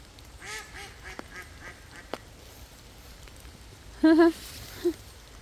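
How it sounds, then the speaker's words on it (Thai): A few soft quacks early on, then a louder burst of duck quacking near the end, with quiet background noise between, in English woodland in autumn. "เป็ด"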